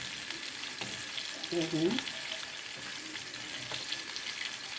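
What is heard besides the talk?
crispy chicken frying in oil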